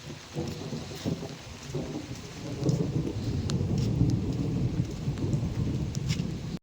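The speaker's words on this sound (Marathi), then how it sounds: "आता परत पाऊस थोडं थोडं चालू झालेलं" Light rain falling in Konkan during May, with a low rumble of thunder building and rolling beneath the steady patter of drops.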